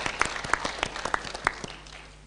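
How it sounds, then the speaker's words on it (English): Sparse applause follows a press briefing by Raila Odinga on the CBC education curriculum, heard as a handful of distinct, fairly quiet claps spaced irregularly before fading out. "A round of applause."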